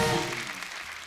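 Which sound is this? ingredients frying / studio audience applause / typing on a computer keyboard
studio audience applause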